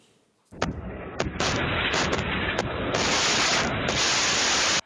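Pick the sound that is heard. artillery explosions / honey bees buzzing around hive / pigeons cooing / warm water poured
artillery explosions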